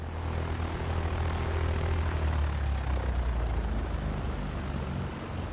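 Cessna 172 Skyhawk in X-Plane 11 taxiing toward runway 7 left, its steady propeller engine drone holding a low, even rumble throughout with no voices.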